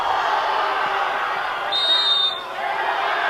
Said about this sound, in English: Well, crowd's really getting into this one.